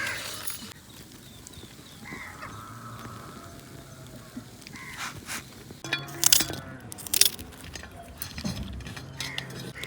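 A flock of sheep moves through a village lane with a busy, uneven patter of hooves shuffling past. A few sharper knocks and clinks stand out near the end.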